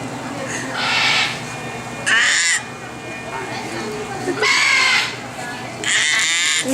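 A loud bird at a zoo gives four harsh, cawing calls in separate bursts over steady background noise, with people's voices faint in the background.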